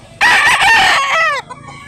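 A rooster at a South Cebu chicken market lets out one loud, close crow with strong rising and falling harmonics, ending abruptly and followed by a brief quiet tail.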